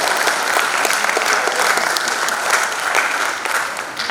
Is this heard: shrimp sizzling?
no